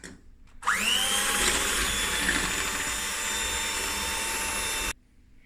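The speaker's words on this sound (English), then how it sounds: "and now I'm just going to whisk." Electric mixer whisking fresh cream with vanilla for a chocolate cake, a steady loud whir that starts abruptly, rises in pitch at first, then holds for about four seconds before cutting off.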